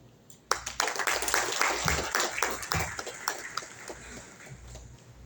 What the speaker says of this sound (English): The members of the association present and past deserves a congratulation and a round applause